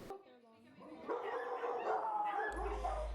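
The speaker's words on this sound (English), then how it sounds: "Laughter, chatter, and barks could be heard coming from Munchie's Coffee House and Barkery at 1000 Upper Gage" Dogs bark and yip inside a busy dog-friendly coffee house and bakery for dogs, mixed with chatter and laughter from the crowd, a lively indoor scene heard at moderate distance.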